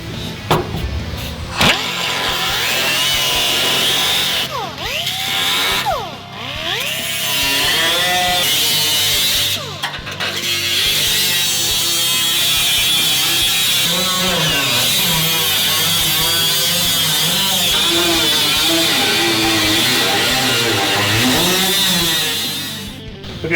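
A power tool cuts through the floor pan of a 1967-1969 Camaro along a taped template, a loud, sustained grinding whine with brief pauses and shifting pitch as the blade moves.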